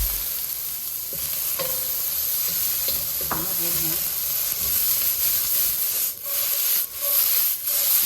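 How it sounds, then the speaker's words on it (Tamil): Chopped onions with garlic sauté in oil, a constant close hiss of frying with a few spatula clinks and scrapes, brief murmurs of talk in the background. "வெங்காயம் நல்லா வதங்கணும்"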